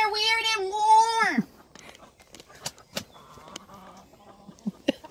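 A hen clucks and squawks loudly in a rising, falling call as eggs are taken from beneath it, followed by softer scattered clucks and rustling while people talk nearby.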